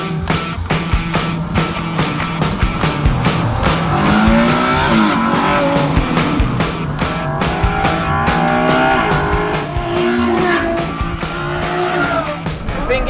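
A Ferrari GTC4Lusso with a 6.3-liter naturally aspirated engine, driven hard, revs up and down through shifts with loud engine howl and occasional tire squeal, close and continuous.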